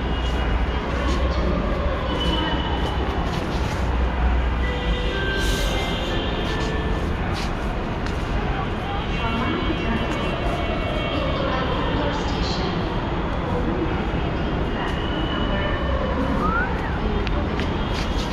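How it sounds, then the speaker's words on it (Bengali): A metro train arrives at an elevated station platform, its rumbling roar and rising electric whine holding steady and loud over background crowd chatter. "ট্রেন আসতেছে দেখবা,"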